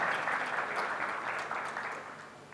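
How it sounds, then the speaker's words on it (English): Audience applause fills a hall during an entertainment industry conference talk, a steady dense patter of clapping that holds at even strength throughout the short stretch with no voices over it. "you can applaud that"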